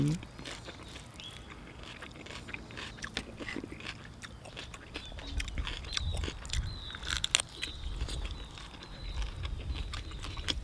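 Someone eating spicy Thai oyster salad with young vegetables, crunchy bites and chewing clicks close to the mic, irregular and fairly quiet, with brief murmured voice in places.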